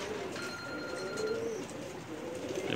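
A pair of red-eyed Kamagar pigeons coos softly with low, soft, drawn-out calls against faint background noise.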